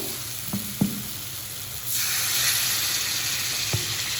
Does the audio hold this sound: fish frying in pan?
yes